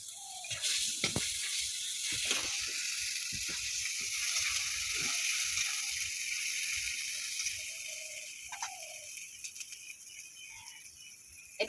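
Chopped tomato with a splash of water sizzles in a pan for a singi fish and drumstick curry, a steady bright hiss broken by scattered pops and light clatters throughout.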